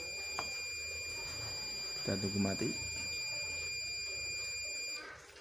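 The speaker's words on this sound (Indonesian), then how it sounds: "ketika sudah tidak ada gas, maka alarm akan mati" An IoT smart-home gas leak alarm buzzer sounds a steady, piercing electronic tone that carries under a person talking and cuts off near the end.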